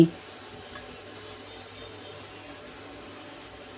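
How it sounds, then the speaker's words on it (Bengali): Rohu fish heads fry in a pan with a steady, soft sizzle that holds evenly throughout at fairly low volume, with no voices. "একটু ভালোভাবে ভেজে নিচ্ছি"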